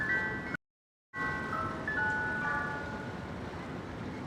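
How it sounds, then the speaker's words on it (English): An ice cream truck's jingle plays on a New York City street near Chelsea Market, a faint tinkling melody heard over steady outdoor hiss and broken by a short dropout. "There is indeed an ice cream truck."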